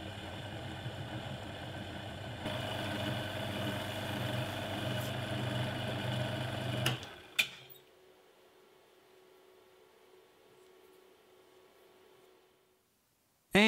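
A lathe turns Land Rover alternator brushes with a steady motor whir and a faint scraping. It shuts off with a sharp clack and winds down into a quiet hum, then a loud knock comes at the very end.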